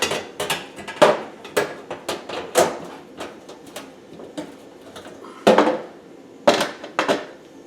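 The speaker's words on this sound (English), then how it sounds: "Take off our clamps." Metal clamps come off while the heating element of a GE electric oven is refitted, a series of close, sharp clicks and clanks in irregular bursts, fairly loud against near silence, with no talking.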